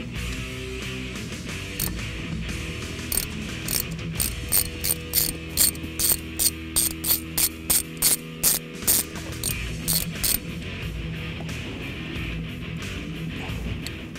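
A hand ratchet loosens the shifter bolts on a 2011-2014 Ford Mustang, clicking in quick, close bursts of rapid pawl ticks, with background music underneath.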